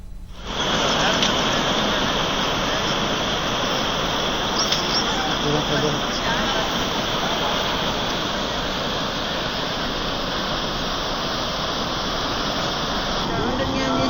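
A swollen stream rushes strongly after heavy rain in the Rayalaseema district, a steady, loud roar of turbulent water running without pause from start to finish.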